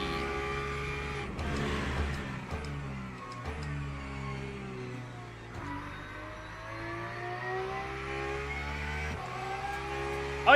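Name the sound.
Porsche race car engine in a racing video game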